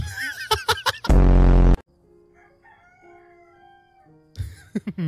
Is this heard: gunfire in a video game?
no